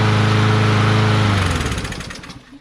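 Craftsman push lawnmower with a Briggs & Stratton 550EX engine running steadily and loud up close, its droning hum then rising and turning ragged toward the end with no talk.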